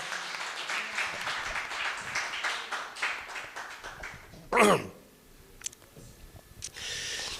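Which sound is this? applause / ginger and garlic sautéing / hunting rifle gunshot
applause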